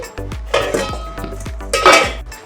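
Chicken marinade is mixed in a bowl, making a few loud, close clatters and scrapes of a utensil against the dish in uneven bursts.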